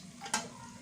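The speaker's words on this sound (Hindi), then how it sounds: "अब हमने हल्की आंच पे इसको 6 से 7 मिनट इसी तरह हल्की आंच पे अपने फ्राई करना" Donuts frying in oil over a low flame give a quiet, steady sizzle with one brief, brighter crackle partway through.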